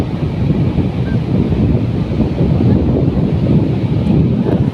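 Sea waves at Kuakata beach roll in under strong wind, a loud, close, rumbling wash with heavy wind buffeting on the microphone and no talking.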